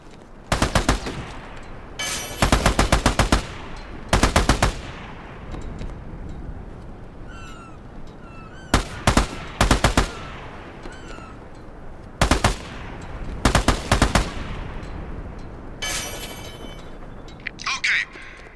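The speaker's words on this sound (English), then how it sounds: "the main thing to work on here is suppressive fire. Basically, keep yourself behind cover and fire blindly." Bursts of automatic gunfire firing rubber bullets in the Army of Two video game, several loud volleys separated by short pauses, with faint chirping game effects in the gaps.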